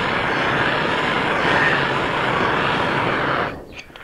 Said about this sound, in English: we got the frame being heated up right here. I'm gonna heat up this top one and do this top one first.